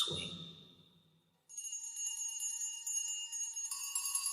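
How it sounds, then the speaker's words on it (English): Old house bell ringing, a bright metallic tone with lingering high overtones that sustains and shimmers, following a fading darker sound, with a second brighter strike layered in near the end. "It rang out, and then so did every bell in the house"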